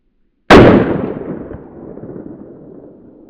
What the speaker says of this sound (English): I'm going to shoot this can long ways and see if it'll go through it long ways.